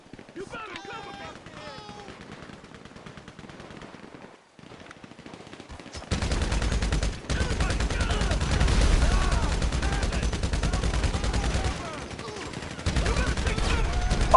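A GTA Online shootout: scattered distant shots and a short lull, then a long stretch of loud, sustained automatic gunfire with rapid cracks. Shouted voices come in over the firing.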